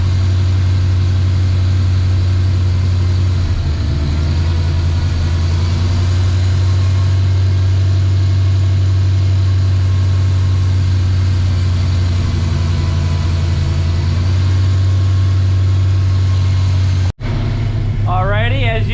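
A race car engine that has sat unused for a long time idles steadily and loudly while burning off Seafoam, a deep constant drone with no revving, cut off by an abrupt break near the end.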